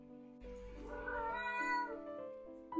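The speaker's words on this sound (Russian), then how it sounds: "Вот что с котом делать? Да, вот так ходит он и разговаривает." A house cat gives a long, drawn-out meow, fairly close and moderately loud, indoors and alone, with a short sharper chirp at the very end.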